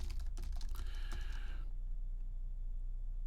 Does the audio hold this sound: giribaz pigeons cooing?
no